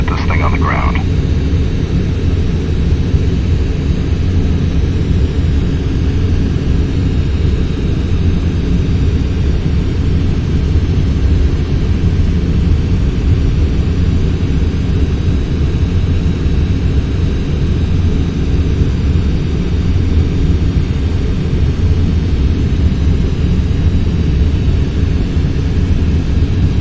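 A steady, loud roar of a Boeing 747-8 jet engine in a flight simulator game, running on a single engine during a landing approach, continuous broadband rumble with no breaks and faint radio-style talk in places.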